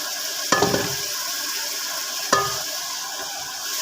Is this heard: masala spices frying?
yes